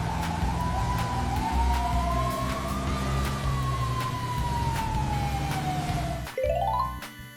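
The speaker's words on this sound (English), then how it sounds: "This is a fire ladder truck." A fire ladder truck's siren wails steadily and loud, sweeping slowly up and down before switching to a fast rising yelp near the end, with engine rumble beneath.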